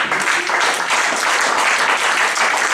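A church congregation applauds the Lord with sustained, dense clapping that fills the room, loud and continuous without a break.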